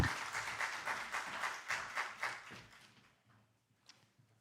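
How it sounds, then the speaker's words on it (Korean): Audience clapping at a university Reformation anniversary academic symposium, a moderate burst of hand claps that thins out and fades to near silence after about three seconds. "박수 한번 다시 한번 보내드리도록 하겠습니다"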